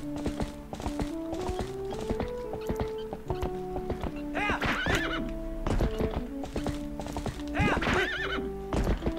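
Horse in Zelda: Twilight Princess gallops with a steady clip-clop of hooves and gives two loud, shrill whinnies over continuous game music.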